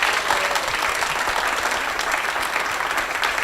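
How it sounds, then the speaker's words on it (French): Conference audience at an AI event in Africa gives a thunderous round of applause, a loud, dense and continuous clatter of many hands throughout, with no voices over it. "j'aimerais quand même que tout le monde fasse un tonnerre d'applaudissements pour ce monsieur"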